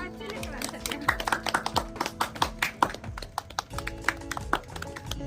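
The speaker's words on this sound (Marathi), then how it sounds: "टाळ्या टाळ्या टाळ्या टाळ्या" A small family group claps in quick, uneven bursts of sharp hand strikes, with voices mixed in among the applause.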